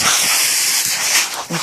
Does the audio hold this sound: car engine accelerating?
no